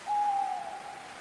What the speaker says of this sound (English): Suddenly you hear an owl hooting in the distance.